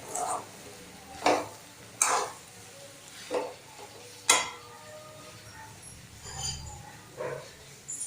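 A spoon stirs mocha ghonto, a banana-flower dish, in a cooking pot. About eight separate scraping clinks come at uneven intervals over a quiet kitchen background.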